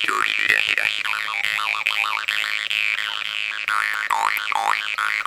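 A Lighthouse jaw harp with its gaps loosened for a quieter tone plays steadily, a sustained droning buzz with shifting twangy overtones that glide up and down in rhythmic vowel-like sweeps, close and alone.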